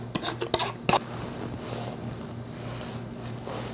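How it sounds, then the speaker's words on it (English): Bird bar batter is stirred in a big bowl, with a few sharp clinks of a utensil against the bowl at the start, then soft, continuous scraping and squishing. "I've mixed it all up."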